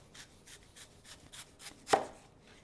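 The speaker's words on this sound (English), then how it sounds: "I want to cut up a little bit of a red onion" A knife chops a red onion on a cutting board in quick, light, regular taps, ending in one sharper, louder knock, close by and without any voices.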